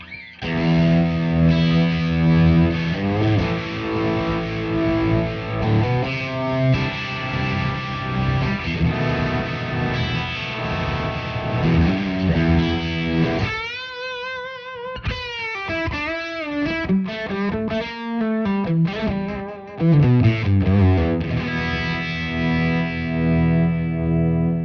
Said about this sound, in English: All right, so that is dirt into Univibe.